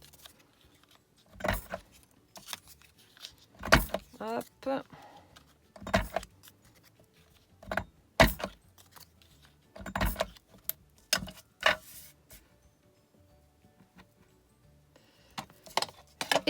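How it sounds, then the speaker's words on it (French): A paper corner rounder punch trims the corners of paper pieces for a junk journal. It makes a series of about a dozen sharp, close clicks and snaps at irregular intervals, with light handling rustle, and a voice briefly speaks. "je vais juste arrondir les angles avec ma perfo"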